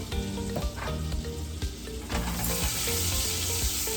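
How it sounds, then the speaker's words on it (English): Butter melting in a pan over reduced heat for a scallop linguine sauce, a steady close sizzle with light crackles and a few scrapes, no voices. "We're adding in our butter. I've already reduced my heat. Just melting that butter down."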